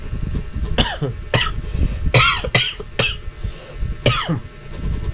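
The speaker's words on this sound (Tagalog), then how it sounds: "medyo may ubo tayo ngayon" Repeated harsh coughs close to the microphone, several bursts in a row with short pauses, over a low background rumble.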